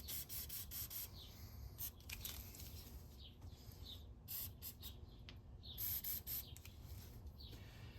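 Loctite primer hisses from a spray can onto the oil galleries of a Cummins engine crankshaft, short bursts of airy spray at close range, separated by quieter rubbing and shuffling.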